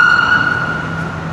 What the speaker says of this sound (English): its sirens are still blaring